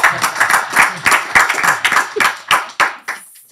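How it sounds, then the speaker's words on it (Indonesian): Audience clapping for Inaya Wahid, the daughter of Gus Dur, at a talk show: a burst of rhythmic, fairly loud applause that thins to a few final claps and then stops. "Tepuk tangan buat beliau."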